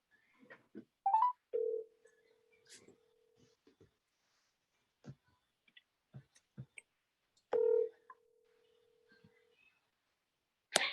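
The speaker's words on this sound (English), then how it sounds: "Let me see if I can get him on the cell phone." A cell phone call is dialed during a committee meeting: scattered keypad beeps and clicks, then two long steady tones, each a couple of seconds, in a quiet room with no talk.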